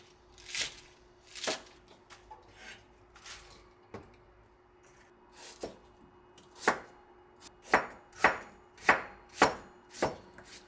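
A knife cuts radish for nabak kimchi on a board, sharp separate chops at uneven intervals at first, then a quicker run of closer, louder strokes toward the end, close up with no talk.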